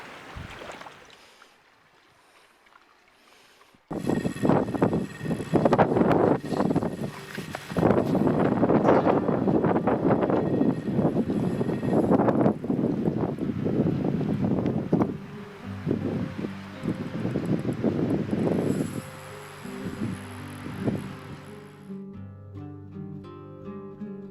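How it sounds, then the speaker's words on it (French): Strong wind gusts buffet the microphone beside a lake in Caspe near Mequinenza, a loud, sustained roar with rustling that runs for most of the stretch before easing off. "Le vent toujours encore présent, mais c'est en train de se calmer par rapport à hier."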